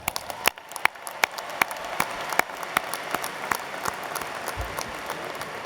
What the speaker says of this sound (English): Now that's worth clapping about.